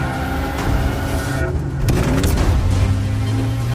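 A car driven hard in a film scene gives a continuous engine rumble, with a sharp whooshing surge and impact-like burst partway through before the rumble carries on.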